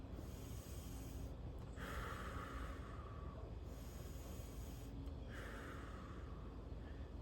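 Slow, deep breaths during a held outdoor strength exercise: two long breathy exhales about three seconds apart, faint under a steady low background rumble.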